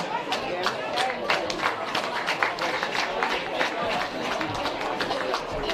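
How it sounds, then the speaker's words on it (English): A crowd at the Women's Summer Cup final football medal presentation claps for the referee, giving steady, moderately loud applause with many overlapping hand claps while a voice speaks over it. "Round of applause for Sean, thanks."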